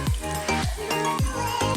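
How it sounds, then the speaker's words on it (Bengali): Khaja pastry dough frying one piece at a time in oil in a wok over low flame, a steady sizzle and bubbling broken by repeated soft stirring or knocking sounds. "এবার আমি কড়াই একটা একটা করে ছেড়ে দিচ্ছি। একদম লো ফ্লেমে খুব ধীরে ধীরে সময় নিয়ে এটাকে আমি ভেজে নেব"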